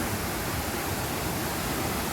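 A powerful waterfall at a scenic tourist site roars as dense, unbroken white-noise rush, loud and close for the whole stretch, with no one speaking.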